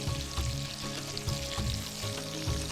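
Marinated chicken frying in a pan for a Pakistani dish, giving a loud, dense, continuous sizzle with crackling pops close up, with no talking over it.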